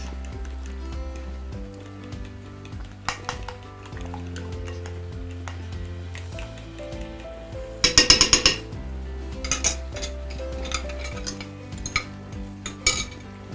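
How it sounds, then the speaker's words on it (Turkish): A yogurt soup mixture with spinach beet being stirred in a pot, heard as metallic clinks and scrapes of a utensil against the pot in irregular bursts, close, with a denser flurry of clatter near the middle and quieter tapping elsewhere. "kaynamış olan çorbamıza iyice karıştırarak yavaş yavaş ekliyoruz."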